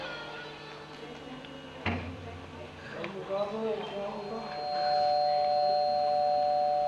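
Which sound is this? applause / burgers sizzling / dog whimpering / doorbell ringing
doorbell ringing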